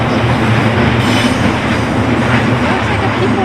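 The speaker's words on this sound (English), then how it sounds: "It looks like a people train too." A passenger train rolls past at close range near Shifen, Taiwan, its rails giving a steady loud rumble with metallic wheel squeal running throughout.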